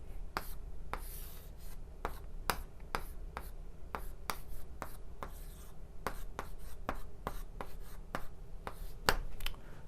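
Chalk or a pen strikes and scratches a board in a lecture room while a pedigree chart is drawn, giving sharp, irregular taps spread steadily over about ten seconds, close and fairly clear, with no speech.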